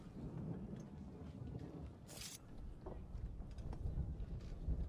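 Stormy sea in Assassin's Creed 3, with steady rushing wind and roaring waves, a brief bright crack or splash midway, and low rumbling throughout; no speech.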